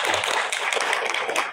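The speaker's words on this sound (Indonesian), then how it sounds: "Tepuk tangan untuk IGINOS." Audience applause at a literacy motivation event held by the Malang Regency education office in Indonesia: dense, steady clapping from a crowd, fairly loud and continuous through the short stretch.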